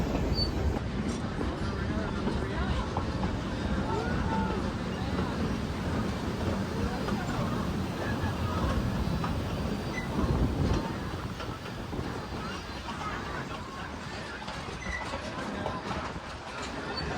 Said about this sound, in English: show a little bit off of the train as it climbs up the hill